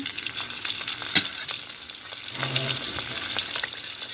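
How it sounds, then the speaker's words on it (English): Seafood spring rolls filled with lobster, smoked salmon, shrimp and cheese frying in oil over medium-low heat, giving a steady close sizzle and crackle with a brief louder pop near the start. "Fry them on medium-low heat for 3 minutes on each side."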